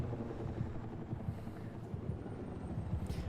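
Helicopter in a Battlefield video game, a steady low rotor thrum with rhythmic chopping pulses throughout, fairly loud and close, with no talk over it.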